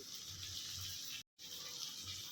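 Curry leaves rinsed under a kitchen tap, a steady close hiss of running water broken by one brief moment of silence before the flow resumes.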